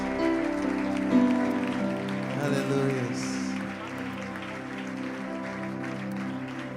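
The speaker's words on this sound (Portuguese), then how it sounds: "Dá um aplauso a Jesus, queridos" A church congregation claps for Jesus during a Sunday celebration service, a steady wash of applause that thins out after a few seconds while a voice speaks over it.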